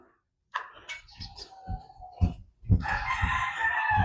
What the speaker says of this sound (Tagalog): So may mga ibon sa labas